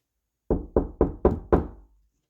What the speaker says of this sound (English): She was woken by a knock on the door.